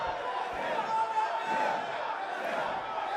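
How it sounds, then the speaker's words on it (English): Steady roar of a wrestling arena crowd in WWE 2K, a dense, sustained wash of cheering with no breaks, at even loudness throughout. "And listen to this crowd."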